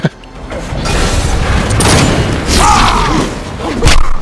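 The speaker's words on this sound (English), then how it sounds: "Impaled and double machine gun to the chest." Deathstroke's special move in the Injustice fighting game: an impaling thud followed by heavy, sustained machine-gun fire and booming impacts, loud and dense throughout, with a sharp hit at the very start.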